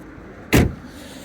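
Power window motor on a used car with a five-speed manual gearbox and four electric windows, a single short whirring burst lasting about a fifth of a second, close and clear against quiet cabin background.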